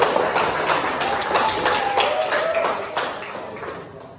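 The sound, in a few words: applause for Emir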